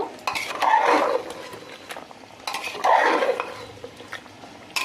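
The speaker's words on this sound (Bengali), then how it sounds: "ভালো করে নেড়ে নেব" Mutton being stirred in a cooking pot, with two bursts of scraping and clinking, the spoon working around the pot for about a second each time and quieter scrapes in between.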